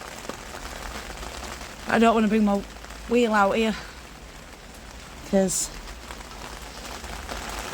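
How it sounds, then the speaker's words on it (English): Steady rain pours down outdoors, a constant broadband hiss running through the whole stretch while someone speaks in short bursts over it. "the rain's decided to fair come down actually"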